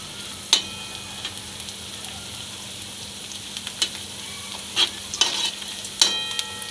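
Crushed garlic and onion sauté in a pan, with a steady low sizzle broken by several sharp scraping stirs of a spoon, close and clear with no talking.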